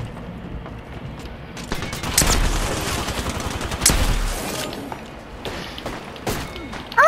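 Wingman pistol fire in the video game Apex Legends: loud, sharp shots burst out in two heavy volleys among scattered lighter pops and thuds, over a busy game backdrop.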